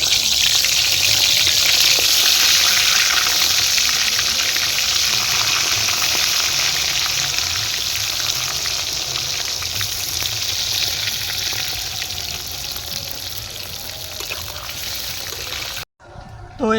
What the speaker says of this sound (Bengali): এবার আমরা পটলটা ভেজে নেব, দই পটলের পটলটা।